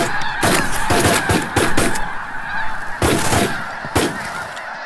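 Snow geese honk in flight during a spring hunt, a dense overlapping chorus of loud nasal calls over a constant flock din, cut by several sharp, loud bangs.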